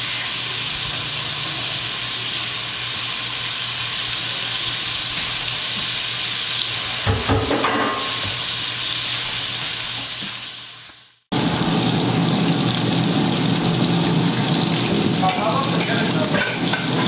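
Bacon sizzles and crackles steadily in a hot pan, a loud continuous hiss that briefly cuts out, then resumes with popping.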